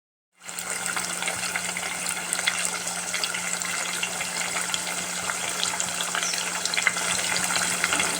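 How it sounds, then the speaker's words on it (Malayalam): Fish pieces fry in hot sunflower oil for a fish biriyani, a loud, steady sizzling hiss that starts abruptly and holds constant, close up with no talking. "ചൂടായ എണ്ണയിലേക്ക് ഓരോന്നോരോന്നായിട്ട് നമുക്കിതുപോലെ പൊരിച്ചെടുക്കാം"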